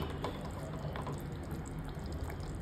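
A pot of village-style prawn curry with drumsticks and brinjal simmers on a stove, giving a steady bubbling and gurgling hiss with soft pops throughout, close and even, with no talking.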